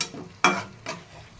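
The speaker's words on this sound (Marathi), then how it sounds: "त्याला असं परतून घेऊया चांगलं एकत्र मस्त तेल सुटेपर्यंत त्याला परतून घेऊ" Spinach sautés in oil under a soft background sizzle, with two distinct scraping strokes of a spoon stirring the pan, close and brief.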